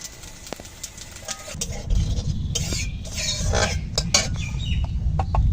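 Dried red chillies and whole cumin dropped into hot oil in a kadai for a Bengali fish curry tempering, crackling into a steady loud sizzle with some clinks of a utensil.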